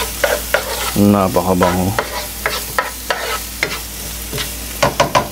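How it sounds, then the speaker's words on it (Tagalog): Red onion sautéing in hot oil in a pan, with a continuous sizzle broken by sharp scrapes and clinks of stirring. A person speaks briefly over the cooking. "So, antayin lang natin pagmantikain yung onion."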